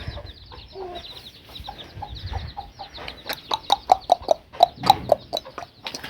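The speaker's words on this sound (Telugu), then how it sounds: "కోడి కూడా ఉంది చూడండి కోడి పిల్లలు" A hen clucks in a quick series of short, sharp calls with chicks peeping nearby, getting louder and busier toward the end, outdoors with no talking.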